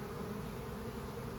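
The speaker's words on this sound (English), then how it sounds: "we have a lot of nurse bees right here" Honeybees buzz at an opened hive with a frame of brood and nurse bees lifted out, a low steady drone that hums continuously and close at a quiet level.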